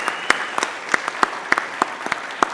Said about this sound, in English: I also really want another round of applause for you, our students, for our community members and faculty, for your performance tonight.